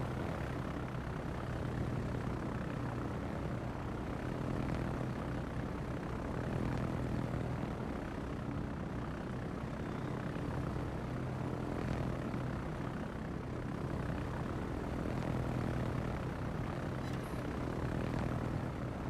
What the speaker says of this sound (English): There's his planes. There they are. Fighter airborne.